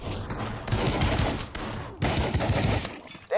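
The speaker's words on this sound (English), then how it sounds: "That shotgun really bounces around, but I guess you should expect that from a shotgun, right?" Shotgun blasts in the VR shooter Pavlov VR fire as several loud, close booming shots, each cut off by brief gaps.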